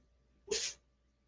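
A single short, sharp sneeze bursts out once against a quiet background.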